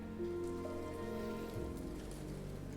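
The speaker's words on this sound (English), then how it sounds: "But the rain began to fall." Steady rain falling in the video game Ender Lilies, a soft continuous patter heard alone and fairly quiet, with faint low tonal music underneath.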